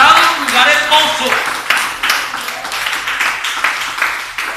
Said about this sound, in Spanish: Alguien le brinda un aplauso a este Dios